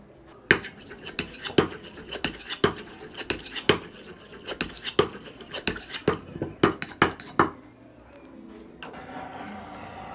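A strip of sanded leather for a bolero-style bracelet being cut, giving a run of sharp, closely spaced snipping clicks over about seven seconds. Softer rubbing and handling noises follow.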